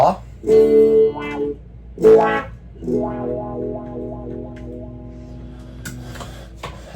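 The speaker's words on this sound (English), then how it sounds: "I do have reverb on with a little bit of wah." Electric guitar with reverb and a touch of wah plays a few separate notes and short chords. Each one swells and then rings down into a lingering reverb tail, with no voices heard.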